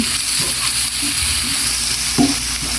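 Spices frying for a mustard hilsa curry, a steady close sizzle with stirring scrapes in the pan, continuous and fairly loud with no voices.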